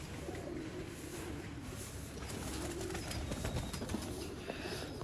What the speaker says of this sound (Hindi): ये हैं जी चूहे कबूतर, आंख का शौक करें।